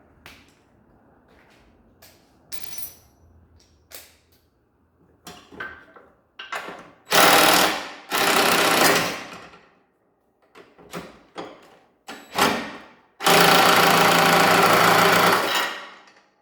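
Removing a nut from the chute flap of a Ferris Z1 36-inch mower brings a series of short mechanical whirring bursts, then two long, loud sustained runs, close by with quiet pauses between and no speech.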